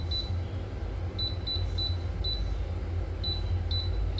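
An air fryer gives a series of short, high electronic beeps, about eight chirps in irregular clusters, as its timer and temperature are set, over a steady low background hum.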